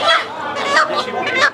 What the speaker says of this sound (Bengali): দেশি মোরগ, একটা খাঁটি দেশি মোরগ